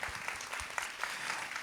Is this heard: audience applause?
yes